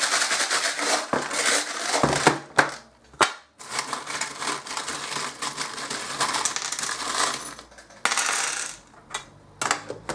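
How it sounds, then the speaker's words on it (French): Small metal charms shaken in a rapid jingling clatter, loud and close, coming in dense bursts with brief pauses over about ten seconds. "Attention les oreilles, les breloques."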